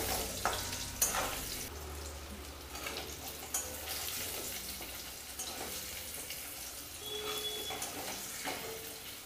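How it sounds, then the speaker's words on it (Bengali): Potatoes fry in white cooking oil in a kadai wok on a gas stove, giving a steady, moderate sizzle with scattered crackles and faint clatters of stirring, and no voices. "এবারে আলুগুলো ভেজে নেব।"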